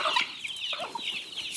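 Hens and young chicks on a farm clucking and peeping in quick, overlapping calls, fairly near, with no talk.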